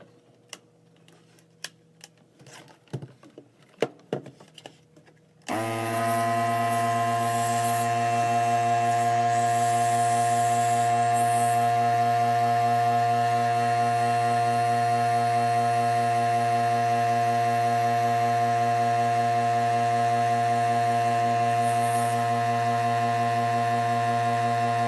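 A pump inflates a patched yoga ball, starting after a few seconds of scattered small knocks and then running as a loud, steady, continuous motorised drone with strong even tones to the end.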